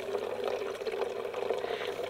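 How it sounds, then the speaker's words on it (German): Filtered water from a Trailaqua outdoor water filter runs steadily down into a PET bottle, a continuous close trickling and pouring with no voices. "Und dann läuft unten das Wasser rein."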